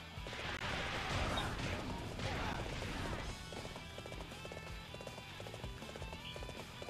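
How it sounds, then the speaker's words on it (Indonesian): Galloping horse hooves in Dynasty Warriors 7, a rapid rhythmic clip-clop under battle noise and game music, loud at first and then settling into a steadier run. "Ini kudanya ini kuda biasa pak."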